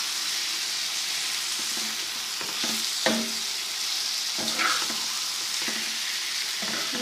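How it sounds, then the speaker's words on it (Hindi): Mutton liver frying on a tawa, with a steady close sizzle and occasional scraping stirs of a utensil against the griddle, no talk. "अभी इसको भुनेंगे हम थोड़ा सा।"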